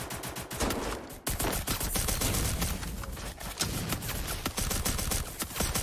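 Rapid bursts of gunfire from the Free Fire video game, dense automatic volleys and sharp single shots packed close together, loud and nearly continuous with one brief gap near the start.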